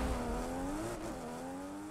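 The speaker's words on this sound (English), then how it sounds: "let's listen into the exhaust" Car engine and exhaust in Forza Horizon 5 growl steadily, with the pitch swelling and sliding slightly as it revs for about two seconds, close and alone.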